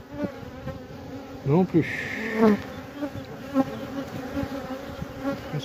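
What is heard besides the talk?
orphaned honey bee swarm buzzing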